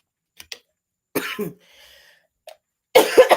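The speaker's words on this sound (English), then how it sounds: "I guess I'm going into one of my little coughing fits." A person coughs in short bursts with a throat-clearing sound and pauses between, close and fairly loud against otherwise quiet surroundings.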